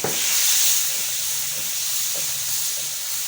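Hot besan barfi mixture sizzling in a pan after two spoons of milk are added, a steady close steamy hiss running throughout with no speech.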